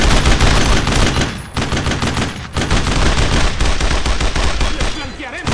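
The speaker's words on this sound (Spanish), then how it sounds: "¡Seguid disparando!" Soldiers fire in a sustained, loud barrage of gunfire with rapid machine-gun bursts and overlapping shots, continuous throughout with only brief dips in intensity.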